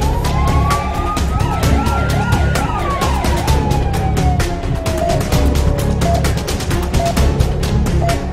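An ambulance siren on the road wails loudly, cycling between rising-and-falling and rapid warbling tones, with driving noise and dramatic music beneath.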